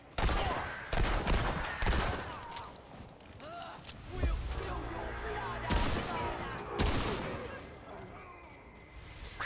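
Long gun fire in the video game Remnant II rings out in repeated sharp bursts, several loud shots spaced across the span over game ambience, with someone talking in between.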